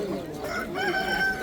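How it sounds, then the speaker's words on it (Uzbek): A large rooster crows briefly at a poultry market in Samarkand. The single short crow sounds fairly faint against a low background of market murmur. "Mana katta xo'roz."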